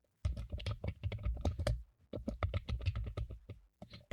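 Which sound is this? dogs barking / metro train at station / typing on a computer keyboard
typing on a computer keyboard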